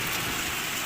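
A sudden spring downpour in Jizzakh: dense, steady rain hissing and pattering close by, unbroken and with no voices.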